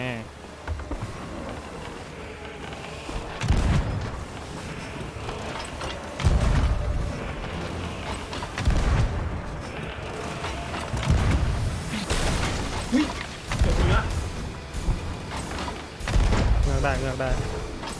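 Repeated heavy ship cannon booms from Sea of Thieves during a player-versus-player ship battle, roughly every few seconds, thudding loudly amid mechanical background noise.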